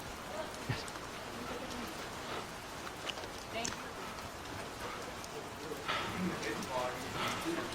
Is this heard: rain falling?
yes